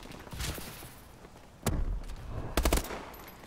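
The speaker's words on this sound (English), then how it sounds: "we're gonna launch this nade really far" A grenade is launched far in a shooter video game. Several sharp, loud bursts stand out over steady background gameplay noise: one crack in the middle and a rapid cluster of reports near the end, with no voices.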